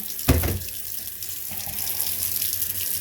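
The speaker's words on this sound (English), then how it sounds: "we're going to rinse our butter to get as much of the buttermilk out of it as possible" Tap water runs steadily into a sink while homemade butter is rinsed to wash out the buttermilk, a brief splash at the start giving way to a continuous close hiss of flowing water.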